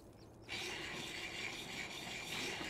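A weapon is sharpened on a grindstone in the video game Gothic 3, starting with a sudden continuous grinding rasp that holds steady and fairly quiet after a brief lull.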